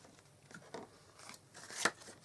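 Scissors snip through designer series paper while trimming corner pieces for a handmade stamped Christmas card, giving a few soft cuts followed by one sharper, louder snip near the end.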